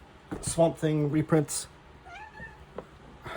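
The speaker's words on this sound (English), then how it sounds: "Apologize for my cat making a cameo there." Domestic cat meowing a couple of times in a room, brief close calls following someone talking, then fading into quiet.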